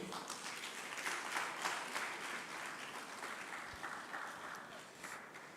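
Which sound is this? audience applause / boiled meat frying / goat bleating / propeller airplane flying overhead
audience applause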